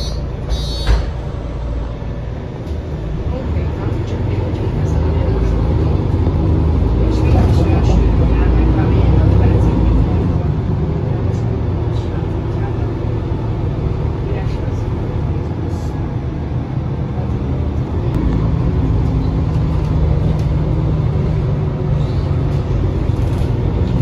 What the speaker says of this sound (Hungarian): ez a pótlóbusz pedig a mexikói útra megy